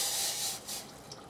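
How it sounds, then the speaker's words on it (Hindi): Hot water pours from a glass into a cooking pot, giving a brief, soft rushing splash that fades after about a second. "आधा गिलास मैंने पानी डाली उधर गर्म पानी डालना है"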